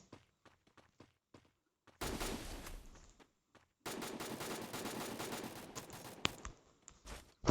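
Automatic gunfire in the mobile shooter Free Fire: two long, loud rattling bursts of rapid shots, separated by quieter footsteps and scattered single clicks.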